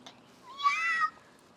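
A child imitates a cat's meow with a single drawn-out, rising-and-falling mew that lasts about half a second and is heard alone.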